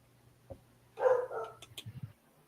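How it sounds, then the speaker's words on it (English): A pet dog barks a few times at close range, a short burst of yips and barks followed by a couple of quieter low sounds, with no talking over it. "That's my dog."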